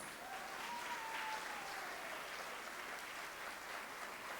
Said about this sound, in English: That is not a clap for the chief guests.